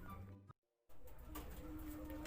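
Taiwan breed pigeons cooing, soft repeated coos over a hissy, noisy background, broken by a brief cut to near silence before the sound resumes.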